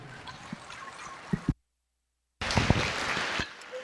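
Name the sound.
crowd applause at county fair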